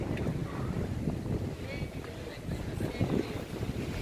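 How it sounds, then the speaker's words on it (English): Breezy outdoor wind in Tenerife on a street lined with bars, a steady broadband rush of wind buffeting the microphone throughout, fairly loud and constant with slight gusts. "A little bit breezy today, folk."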